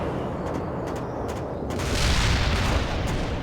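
Missile launches and explosions in the strategy game World in Conflict: a series of sharp thuds and booms over a dense rumbling battle din, swelling louder in the second half.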